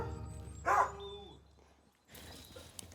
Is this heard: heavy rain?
no